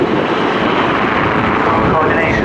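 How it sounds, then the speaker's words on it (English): A helicopter flies low in a display at an air show, a steady broadband rotor and engine roar filling the clip continuously, with crowd or commentary noise blended under it. "they're flying the helicopter down together"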